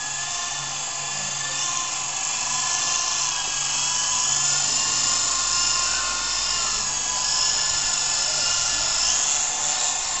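An E-sky remote-controlled model helicopter in flight, a loud, steady high-pitched whine of the electric motor and rotor holding continuously and close by, with no talk.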